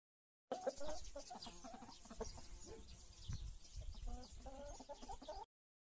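A hen clucks repeatedly in short, choppy bursts, close and clear, with a low rumbling background underneath.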